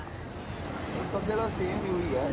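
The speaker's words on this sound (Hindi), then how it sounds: "आणि इथं बघू शकता तुम्ही समुद्र" Sea waves roll onto the coast beside an old fort, a moderate continuous wash of surf under wind, with a person talking faintly in the background.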